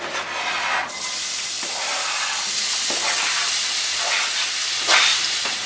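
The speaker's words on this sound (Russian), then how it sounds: "Отдельно в сковороде на растительном масле мы будем обжаривать мелко порезанный лук." Finely chopped onion fries in vegetable oil in a pan, giving a steady close sizzle and hiss with a few brief louder crackling flares.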